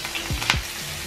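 Butter hisses and sizzles briefly in a hot frying pan while vegetables cook, with a couple of soft stirring clicks.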